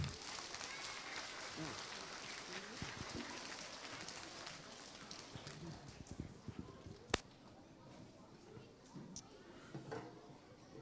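Applause from students and staff at a school assembly, a steady dense clatter of many hands clapping throughout, moderately distant with a roomy wash and an occasional sharper clap.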